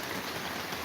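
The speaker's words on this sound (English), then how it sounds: "But just mostly rain, a lot of rain" Heavy rain from Hurricane Nicole pours down steadily at night, a dense, even hiss of drops striking surfaces close by, continuous and loud with no talking.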